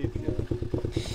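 A young girl's small motorbike rides past at a gentle pace, its light engine buzzing in a steady, pulsing putter close by, with a brief voice faintly mixed in.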